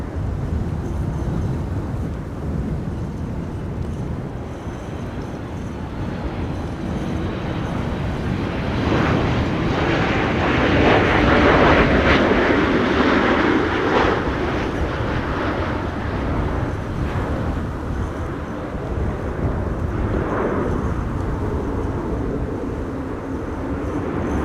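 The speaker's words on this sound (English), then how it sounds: "it's going to be an Embraer 175 arriving from Prague in the Czech Republic" A KLM Embraer 175 airliner arrives at Amsterdam Schiphol from Prague in high storm winds, its engine roar swelling from a rumble to a loud peak mid-clip before easing again amid gusty noise.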